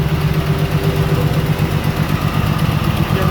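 An engine idles steadily with its choke wide open and two cooling fans running, a loud continuous low rumble with an even throbbing pulse and a faint steady hum, heard alone without talking.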